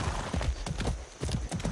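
In Far Cry 6, horse hooves clip-clop at a steady trotting rhythm, close and clear over a low rumbling game background.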